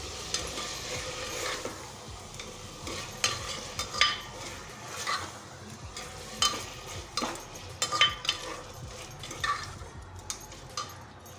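Three chopped tomatoes fry in a pan for tomato bath, with a quiet sizzle under repeated scraping stirs of a spoon, irregular strokes heard close with no talking.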